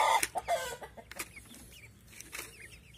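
Chickens cluck and fuss in a henhouse during rain, several short sharp calls bunched near the start, then softer scattered clucks fading into a quieter background.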